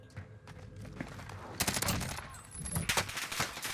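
Rapid automatic fire from a KSP gun in the Warzone video game, quick bursts of shots that grow louder and denser midway and continue in repeated volleys.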